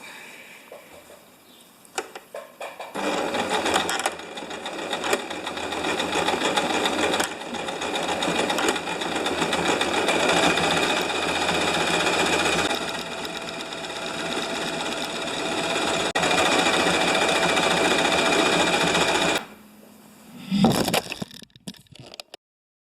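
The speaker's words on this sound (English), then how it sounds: "Back behind the sewing machine. Luckily for me the length was just right. So now I get to sew all the way around here." A sewing machine stitches fabric in a steady, loud mechanical whir that runs almost without a break for about sixteen seconds, then stops with a few brief handling noises at the end.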